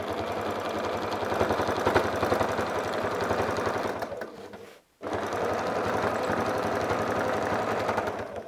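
Domestic sewing machine quilting along a template, a fast steady stitching hum that runs continuously, stops briefly, then resumes at the same even pace, close and alone.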